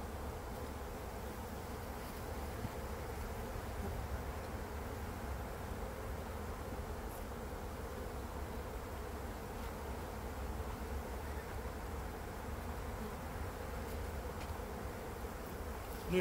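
Honeybees drone steadily at an opened hive colony prepared for overwintering, a faint continuous buzz lasting the whole stretch with no talking.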